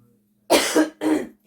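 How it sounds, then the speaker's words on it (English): Two dry coughs, close and fairly loud, following a short silence, with a faint third starting at the end; no talking. "Oh, this cough."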